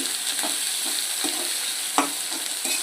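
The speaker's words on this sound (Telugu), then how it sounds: "పచ్చిమిర్చి ఉల్లిపాయ ఫ్రై చేసేసుకున్నాను తాలింపులో" Steady sizzling of green chillies and onions frying in hot oil for tempering, with occasional scraping stirs and a sharper clatter partway through.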